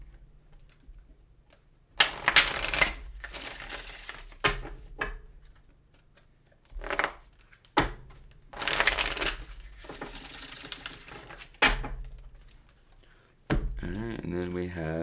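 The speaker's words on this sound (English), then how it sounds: "I'm gonna just shuffle these decks up real quick just to wake them up" Two decks of playing cards shuffled several times in quick riffling bursts of crisp flutters with pauses between, close by, a voice talking in the gaps.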